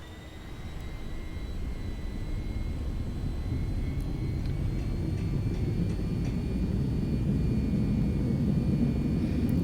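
Aircraft engine noise in the VTOL VR flight game, a steady, loud roar with a broad low rumble that builds slightly over several seconds, with no voices.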